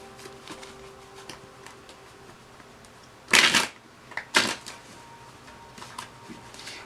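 Tarot cards being shuffled close up: two sharp, riffling bursts about a second apart, set against soft ticks and faint background hiss, with no talking.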